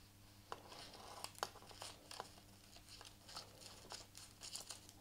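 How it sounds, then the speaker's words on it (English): Close, crunchy snipping and tearing of paper with blunt scissors, irregular cuts with crinkly rustles between them, quiet and alone. "Wow, these scissors are blunt."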